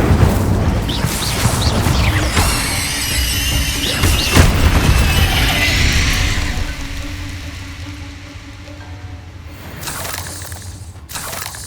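Incendio fire spell cast in Hogwarts Legacy, a loud burst with crackling and whooshing bursts early on, a sharp hit near the middle, then a rumbling tail that fades before a final short flare.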